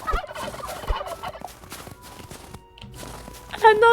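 A turkey in the farming game Travellers Rest gobbles in short bursts amid game music and footstep effects, with a louder gobbling flurry near the end.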